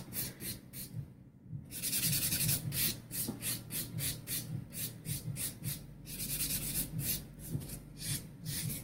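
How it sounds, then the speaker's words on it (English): The coarse side of a nail buffer is lightly rubbed across natural nails in quick, even, back-and-forth strokes. The soft, close scratchy swishes repeat steadily with only brief pauses. "now I'm going to buff her nails with Mosaic's buffer, and I'm using the coarser side"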